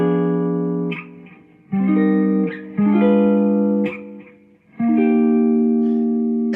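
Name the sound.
guitar playing neo soul chords with diminished 2 chord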